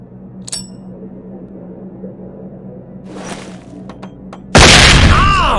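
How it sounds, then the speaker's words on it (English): A flashbang grenade goes off in the tactical shooter SWAT 4 as a sudden very loud, close blast. It follows a quiet stretch with a few small clinks and thumps, then rings out with a sustained harsh roar. "Designed to disorient people with a very loud bang and an extremely bright flash."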